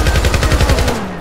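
Rapid automatic gunfire from a weapon in the 2012 video game Syndicate, a steady stuttering burst of roughly a dozen shots. The shots are loud and close and keep firing for about a second before they cut off.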